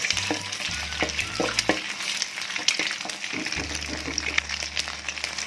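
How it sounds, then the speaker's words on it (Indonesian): Nasi goreng fried rice with egg stirred in a hot pan, a steady close sizzle with repeated scraping and clinking of the spatula, no speech. "kita aduk telurnya supaya rata"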